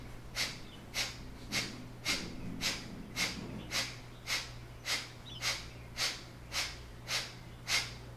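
Rhythmic Kapalabhati yoga breathing: about fourteen sharp, forceful nasal exhales at an even pace, close and fairly quiet over a low steady hum.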